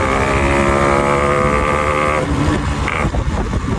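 A Yamaha RX motorcycle engine revs loud and close, a steady buzzing drone for about two seconds before the pitch drops and turns rougher and uneven.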